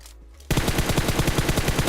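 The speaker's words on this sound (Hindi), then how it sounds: "भाई सामने फायरिंग चल रही है" Gunfire in the battle royale game PUBG bursts in after a brief quiet moment. It becomes a loud, continuous, rapid automatic stream of shots with no pauses, and no one talks over it.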